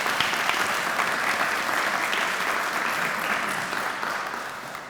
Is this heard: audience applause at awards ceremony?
yes